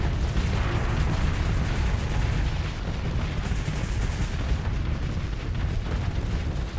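Rockets fire in the space combat video game Starsector, a dense and continuous roaring barrage of blasts that stays loud throughout with no voices.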